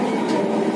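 A metro train rumbles along steadily, a continuous rolling roar from close by.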